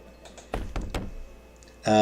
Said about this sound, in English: You're startled by the sound of frantic banging at the front door.